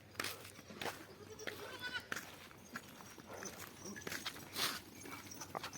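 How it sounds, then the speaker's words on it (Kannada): Sheep bleat faintly in the open, with thin cries rising over rustling and shuffling hooves. Quiet voices can be heard nearby. "ನೋಡ್ರಿ ಫ್ರೆಂಡ್ಸ್ ಇಲ್ಲಿ ಕುರಿಗಳು ನೋಡ್ರಿ"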